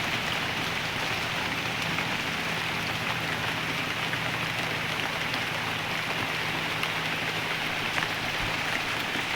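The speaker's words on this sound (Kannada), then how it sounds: "ಸೊ ಮಳೆ ಬಂತು, ಮಳೆ ಬರ್ತಾ ಇದೆ." A light drizzle falls in a steady even hiss that does not let up, soft and spread evenly with no voices over it.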